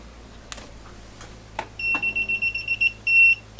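A Mustool MT11 multimeter's non-contact voltage detector beeping, a quick string of short high electronic beeps followed by one longer tone, with faint clicks and handling noise before it.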